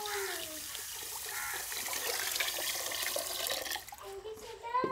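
Water pours steadily into a cooking kettle already holding sugar and butter for village-style mango squash, a close, continuous splashing stream that shifts in tone near the end, with a voice talking over it.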